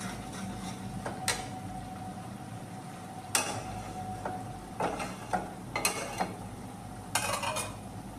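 A spice mixture frying in a pan while salt is stirred in: a soft steady sizzle under scattered scraping and clinking strokes of a spoon against the pan, fairly quiet and close.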